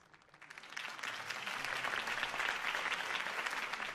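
Crowd applause at a campaign rally in the Batman Telltale video game rises quickly from a faint start into sustained, fairly distant clapping from many people, with no voices over it.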